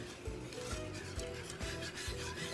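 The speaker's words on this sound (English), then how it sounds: "And I'm just gonna whisk here." Flour gravy being whisked in a pan makes rhythmic rubbing scrapes, several quick back-and-forth strokes, close and steady with no talk.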